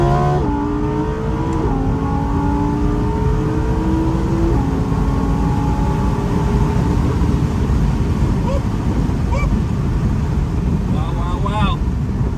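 Audi R8 Spider engine accelerating through the gears in manual mode, a loud close drone with rising harmonics and gear shifts, wind rushing over the open top, with people talking in the cabin.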